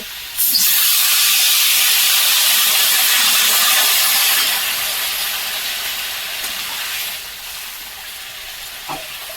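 Water hits a hot pan of fried shrimp and shrimp roe in a Bengali spinach-and-shrimp curry, bursting into a loud, steady steam hiss and sizzle that gradually eases off over several seconds.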